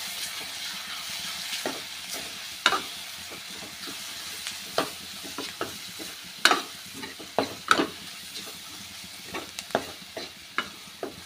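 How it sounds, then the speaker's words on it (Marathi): Red chili powder and turmeric masala being sautéed in a pan for dal-onion curry, with a steady close sizzle and frequent sharp scraping stirs of a spoon throughout, no speech. "तर मसाला आपण छानपैकी परतून घेणार आहोत."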